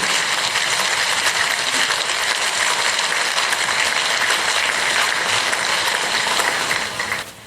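A large crowd at a rally claps in a dense, continuous roar of applause, loud and steady for about seven seconds before tapering off at the end.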